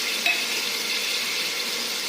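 Beans, carrots and peas sauté in a pan for Bajra khichdi, a steady close hiss of frying with a single light clink near the start and no voices.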